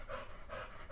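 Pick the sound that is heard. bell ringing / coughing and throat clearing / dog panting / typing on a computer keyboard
dog panting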